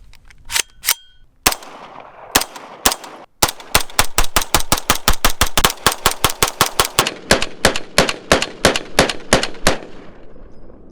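A Foxtrot Mike FMP-9 9mm fires a few separated shots, then a long, steady string of rapid, evenly spaced sharp cracks, loud and close with no talking.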